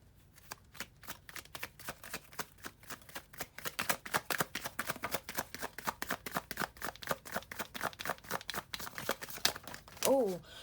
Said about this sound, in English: it's me bad shuffling